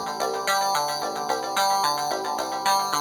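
A Dreadbox analog synthesizer plays a short pulsing pattern of bright, buzzy tones, repeating in a steady rhythm, close and clear with no voices.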